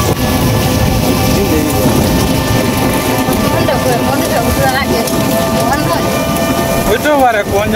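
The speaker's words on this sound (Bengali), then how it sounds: "এটা বৃষ্টি" Heavy rain pours down continuously, a dense loud hiss of drops striking surfaces close by, with a few faint rumbling swells beneath and no voices.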